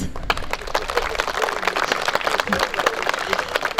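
An outdoor crowd at the opening of a youth volleyball tournament applauds in a dense, steady patter of many hands, with voices mixed in underneath.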